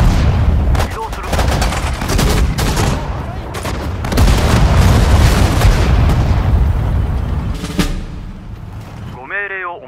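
Infantry gunfire in a Japanese army war video game set in the Battle of Singapore: dense, loud bursts of rifle and machine-gun shots with booming impacts, ending in a short burst of radio-style voice.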